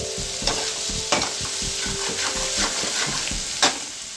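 Okra stir-fries in a pan over a gas flame with lime juice, giving a steady close sizzle and crackle, punctuated by a few scraping, knocking strokes of a spatula.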